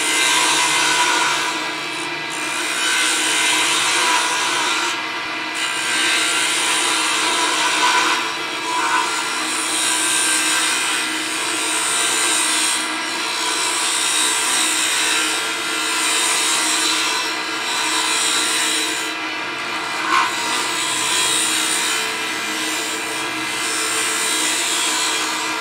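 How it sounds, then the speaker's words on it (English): A woodturning tool cuts a wooden pen blank on a lathe, making a continuous loud scraping, hissing whir that holds steady the whole time with small rhythmic dips, close up and without any talking. "Once I've got it round, I can then move my tool and proceed to cut."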